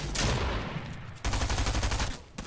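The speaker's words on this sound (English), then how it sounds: "who's freaking shooting me?" A dense burst of video game gunfire, with a loud volley of shots, a brief break, then a fast run of rapid automatic fire.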